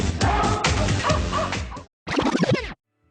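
Dogs bark and yip in a quick, close burst, then whimper and yelp briefly after a short pause.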